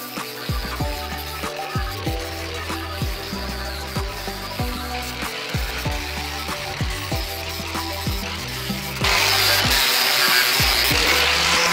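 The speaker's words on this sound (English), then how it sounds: "From there, I continued using the angle grinder to remove all the old paint." Angle grinder stripping old paint from metal trim on a tiny cabin build, a steady whining drone with repeated rhythmic bursts as it bites the surface, turning harsher and brighter near the end.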